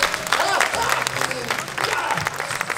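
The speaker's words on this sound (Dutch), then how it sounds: "mag ik een heel groot applaus voor onze helden van de show!" Large audience applauding and cheering for the performers at the Jungle Jim's Test show, WILDLANDS Adventure Zoo Emmen; dense, sustained clapping fills the whole moment, with crowd voices mixed in.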